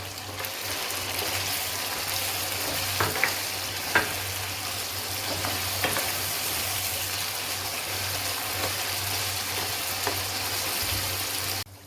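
Chicken with dried plums (aloo bukhara) sizzles in oil in a pan over medium flame, dhaba style, with a steady loud frying hiss throughout and occasional soft scrapes and clicks of stirring.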